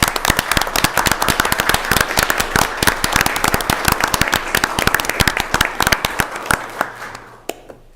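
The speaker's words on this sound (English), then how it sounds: "I would invite us to give a round of applause for this entire group of Scouts." An audience at a city council meeting applauds a group of Scouts with dense, steady clapping that fills the room and fades out at the end.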